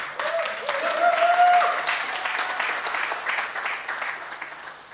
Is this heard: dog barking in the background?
no